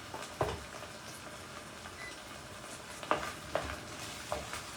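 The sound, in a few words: stirring frijoles in a pot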